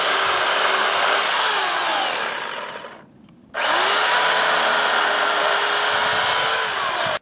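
A chainsaw cuts into the roots of a pecan tree stump, whining loud and steady and close, easing off briefly mid-cut before roaring back at full speed.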